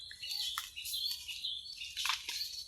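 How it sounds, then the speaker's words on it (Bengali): Birds call in a forest, a faint scatter of high chirps and tweets heard at a distance against a soft background hush, with no voices present. "পাখির ডাক শোনা যাবে।"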